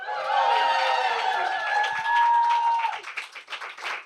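A live podcast audience at King's Place in London claps and cheers loudly in a dense, sustained burst, with whoops and shouts over steady applause that thins into scattered claps at the end.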